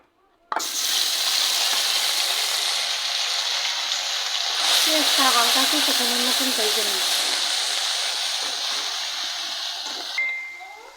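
Onion paste frying in hot oil in a pan for egg korma, a loud steady broadband sizzle starting abruptly and holding for about ten seconds, with a voice speaking partway through before the hiss eases off.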